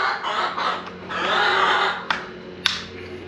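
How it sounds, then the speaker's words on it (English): Chickens clucking and squawking close by, with busy overlapping bird calls and a couple of sharp clicks near the end. "Chickens figured it out too. They come in here squawking."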